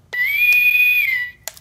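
A single sustained, shrill whistle tone holds for about a second, loud and close, with short clicks at its start and just after it ends.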